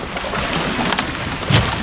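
Rain falls steadily on a river during fishing on the Nan River in Thailand, a dense continuous hiss with scattered patters, close and fairly loud, with no voices.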